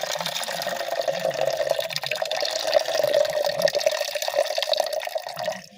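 Running water pours and splashes steadily over olive leaves being washed, a close continuous trickle with small drips lasting several seconds before tapering off.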